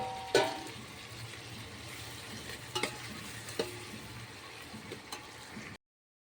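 Tomato frying in a pan with onion, dried red chilli, mustard seeds, cumin, salt and turmeric, a soft, faint, steady sizzle broken by a few clinks of stirring, with no voices.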